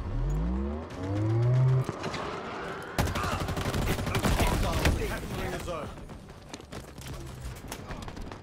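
Battle sounds from Halo Infinite Big Team Battle: a Scorpion tank engine whines and rises, broken by dense bursts of gunfire and heavy impacts, close and loud, with rapid fire carrying on through the middle.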